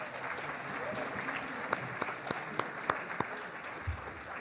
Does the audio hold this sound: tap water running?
no